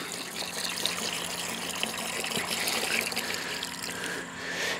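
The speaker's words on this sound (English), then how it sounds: "I'm going to add some water just to give it enough volume so I can water that tree with it" Water runs and trickles steadily into a container holding a mix of fish fertilizer formula and Bio 800, diluting it for watering a newly planted tree; a close, continuous pour with no talking.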